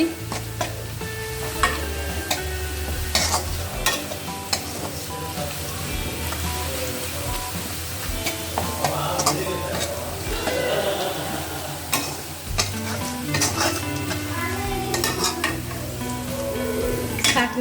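Biryani ingredients sizzle and fry in a pot over low heat while a utensil stirs them, scraping and clinking in an irregular rhythm, close and steady throughout with no talking.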